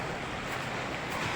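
Seaside waves roll onto Agsalin beach in Oriental Mindoro around sunrise, a short, dense, loud wash of surf mixed with wind buffeting the microphone.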